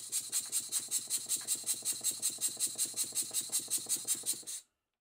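Small model slide valve steam engine running on a workbench, a fast even chuffing beat with a metallic rasp, fairly quiet and steady before stopping abruptly near the end.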